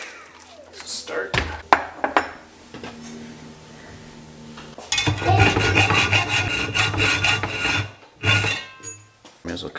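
A small aluminum tab is cut off a Canon M6 camera part with hand strokes, rasping and scraping close up in irregular bursts, with thumps and handling noise in between.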